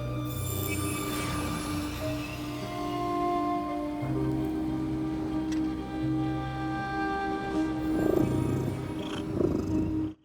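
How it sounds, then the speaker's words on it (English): A cat purrs in the video game The Midnight Walk, a steady low rumbling purr set against soft tonal ambient music, close and continuous throughout. "You hear a purr. Could it be the cat?"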